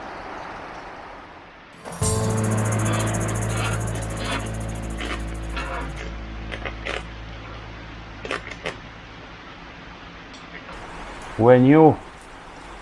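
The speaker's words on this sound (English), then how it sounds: "It is raining quite heavily." Heavy rain falls outdoors during maintenance on a Suzuki Bandit 650 motorcycle, a steady hiss under a voice, with a sustained tonal hum and a few knocks partway through.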